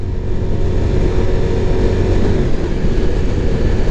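Ducati Diavel V4 motorcycle engine while riding, a loud steady drone with a low rumble and wind noise, held at fairly constant revs throughout.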